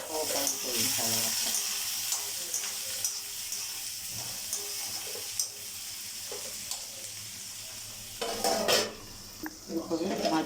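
Onions stirred as they fry in a pan for a curry of chukkakura and thotakura greens: a continuous close sizzle with spoon scrapes and clatter, growing busier near the end, no voices.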